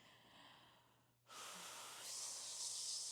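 Steady, breathy exhalation from a person doing a beginner mat Pilates warm-up, starting abruptly after a quiet moment and continuing as a close, sustained hiss that grows stronger toward the end.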